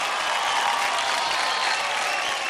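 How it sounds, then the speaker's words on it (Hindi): Crowd applause for Raghav's Rockstars dance team on a TV dance show stage, a steady dense wash of clapping that fills the whole short stretch without a break. "जोरदार ताली हो जाए राघव के रॉकस्टार्स के लिए"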